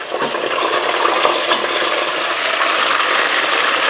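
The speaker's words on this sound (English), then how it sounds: "So let these fry up. That's the second fry." Chicken wings on their second fry in hot oil for Korean-style double-fried wings, a dense steady crackling sizzle that stays loud and close throughout, with no voices.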